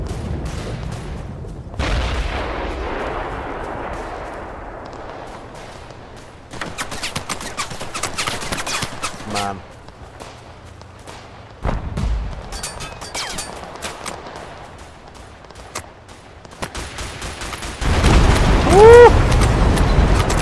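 Heavy cannon blasts and bursts of automatic gunfire in the video game Total Conflict Resistance, booming repeatedly across a long battle with someone talking over the action.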